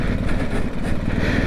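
BMW GSA motorcycle engine under heavy throttle while riding off-road through jungle, a loud, close, rough droning roar that holds steady throughout the short burst.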